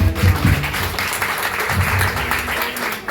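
An audience breaks into steady applause after a speaker's prompt at a business gathering, dense clapping holding for a few seconds with faint voices underneath.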